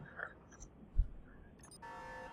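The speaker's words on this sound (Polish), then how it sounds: "Ciekawe, czy ten alarm bije, bo mnie zobaczyli" A steady electronic alarm sounding in the video game Crysis, starting abruptly and droning on as a buzzing, ringing tone over quiet background ambience.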